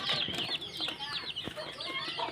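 Several young chickens, seventeen chicks kept in a cage on a farm, cluck and chirp continuously at close range, with overlapping high calls and no talking.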